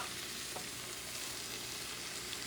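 Precooked crabmeat sizzles in a hot pan while tomato sauce goes in on top, giving a steady, close frying hiss with faint stirring scrapes and no talk.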